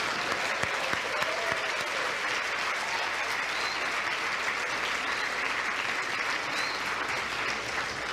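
Church congregation applauding the pastor and his wife, an even, continuous burst of clapping from many hands with no speech over it.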